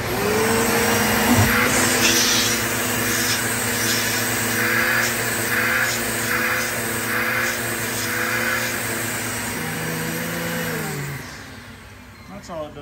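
A Bissell Power Trak 6592 carpet cleaner's motor runs at a steady, loud whine for about eleven seconds, nearby and continuous, then winds down at the end.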